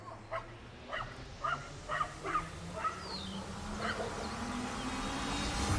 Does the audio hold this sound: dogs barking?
yes